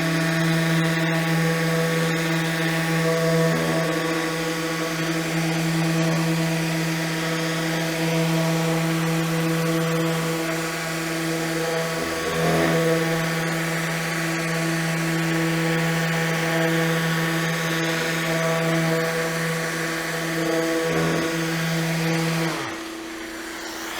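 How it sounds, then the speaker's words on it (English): A steady, droning orbital sander whirs on wood without a break for most of the clip, then cuts out near the end. No voices are heard. "I start with a number 5 orbital, work my way up as the grit climbs."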